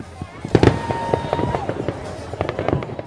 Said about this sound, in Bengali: ছুটির আমেজে থাকা মার্কিনিরা আতশবাজি ফোটানোর মাধ্যমে একটু আগেই শুরু করেন উদযাপন।